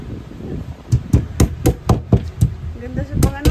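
A wooden mallet pounds fish at the Tudela fish market in Saipan, about a dozen sharp, loud knocks in an uneven rhythm, with market chatter and a voice underneath.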